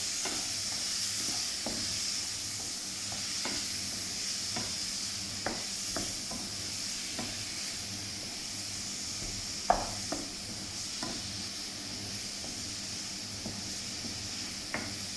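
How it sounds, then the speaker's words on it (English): Curry paste sizzles and hisses steadily in a hot pan, with occasional scraping and tapping as it's stirred; no voices. "So I'm just going to add in the paste now, and now sizzle in"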